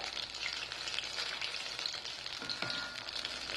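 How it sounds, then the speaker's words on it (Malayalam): Parippu vada fritters fry in hot oil over a medium flame, a dense, continuous bubbling sizzle that holds steady throughout with no voices. "എണ്ണയിലേക്ക് ഇട്ട് കൊടുക്കാം. ഞാൻ ഫ്ലെയിം മീഡിയത്തിലാണ് ഇട്ടിരിക്കുന്നത്."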